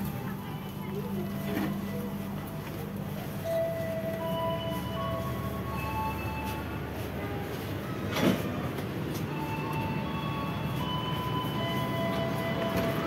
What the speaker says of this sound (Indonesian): tiba Jogja, kereta api Pramex jam 7:49